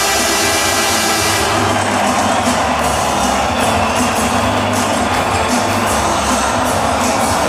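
Hockey crowd at Rogers Place in Edmonton roaring and cheering for the Oilers after a playoff win, a dense sustained wall of applause and shouting that stays loud throughout.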